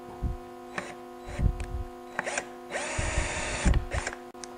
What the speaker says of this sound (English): drill a hole in each side of it